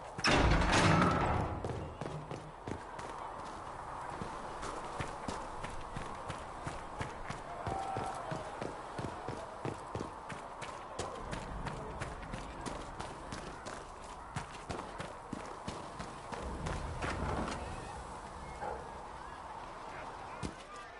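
Rhythmic horse hooves clip-clop steadily across the full stretch in a Dragon Age Inquisition riding scene, with a louder thud at the start and a faint voice or two under the trotting.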